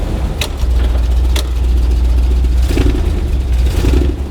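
A 1970 Dodge Challenger muscle car's engine idles steadily with a deep low rumble close by, a couple of brief clicks over the top and a slight rise in revs toward the end.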